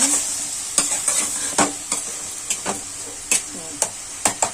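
Tomatoes with green chillies sauté in a pan, a low sizzle under a series of sharp, irregular spatula clacks and scrapes as they are stirred, close and fairly loud.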